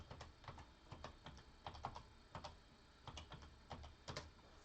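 Quick irregular clicks of typing on a computer keyboard, soft and close, in short bursts with no talk.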